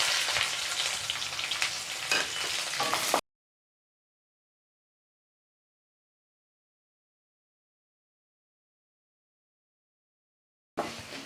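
Shallots, garlic, ginger and dried chilies fry in oil with a steady, bright sizzle for about three seconds, then cut to silence before the sizzle briefly returns at the end.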